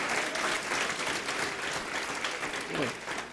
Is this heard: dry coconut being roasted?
no